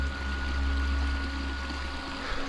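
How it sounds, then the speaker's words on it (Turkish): A clean mountain stream at Sarıalan plateau flows in a steady, close rush of water with a low rumble and no voices. "Deremiz de böyle akıyor. Güzel bir dere. Temiz bir dere."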